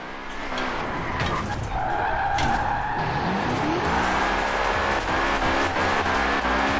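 A BMW drifts in the racing game Forza Horizon 4, with loud, continuous tire squeal over a revving engine, sustained and close, with no voices.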